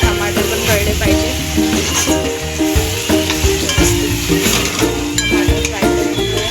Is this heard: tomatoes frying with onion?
yes